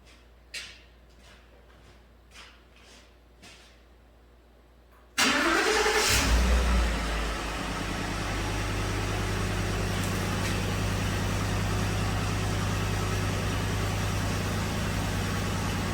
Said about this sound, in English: Start engine, do not depress the throttle.